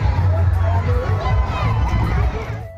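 A packed crowd waits for a train at Ishanchandi railway station, murmuring and shouting all at once, many overlapping voices filling the busy platform.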